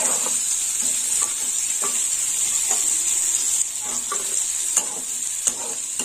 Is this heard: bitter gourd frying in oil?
yes